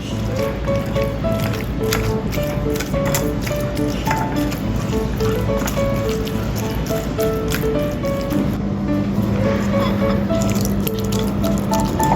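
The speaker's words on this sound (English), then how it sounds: "Pour the tofu into a sieve and crush it, letting the excess water drip off." Tofu being crushed in a sieve, with squishing, wet pressing sounds and water dripping off throughout, steady and close, with a brief low hum partway through.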